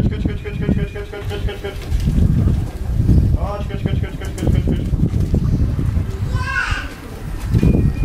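Racing pigeons arriving back at a loft in Kalisz, with soft cooing and wing flutters around the loft. Someone talks over them throughout, and outdoor bustle and children's voices sound in the background.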